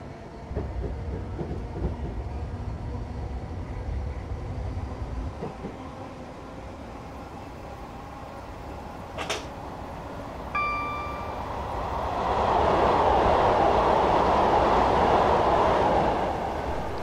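A simulated passenger train in Train Simulator 2015 rumbles steadily on the Coulsdon Town to London Victoria route between Balham and Wandsworth Common. A brief tonal chime sounds midway, and the rolling noise then swells louder.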